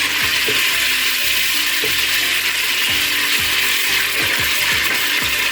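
A spoon stirring a pot of Nigerian stew in hot oil, with an even frying sizzle throughout and scraping, clacking stir strokes repeating every second or so, close and alone.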